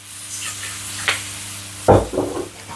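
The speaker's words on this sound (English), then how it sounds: "They call that deglazing" A tablespoon of balsamic vinegar poured into a hot pan to deglaze it after cooking spatchcock chicken, a sudden loud sizzling burst after a quiet stretch with a small clink, then fading crackles.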